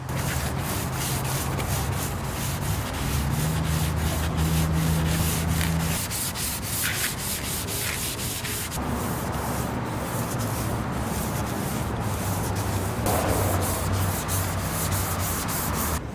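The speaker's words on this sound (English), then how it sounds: "Now we just sand in long strokes." Continuous rasping of a 320-grit sanding block rubbing back and forth over a car panel in long, even strokes, close and steady throughout with no voices.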